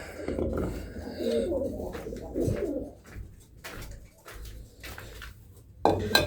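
Pigeons coo in a loft, giving soft low cooing phrases in the first half and then sparser sounds with a few clinks and knocks nearby.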